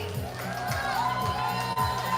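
A crowd at the Ekka Dagwood Dog eating contest cheers for Team Michael, a short, loud burst of mixed shouts and whoops close by.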